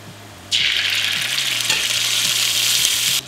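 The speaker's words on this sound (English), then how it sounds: "Make sure that the oil coats the bottom of the pan, and add 1 tablespoon of minced ginger" Minced garlic and ginger hit hot oil in a pan and burst into a loud, steady sizzle that starts abruptly and holds for a few seconds, close and alone.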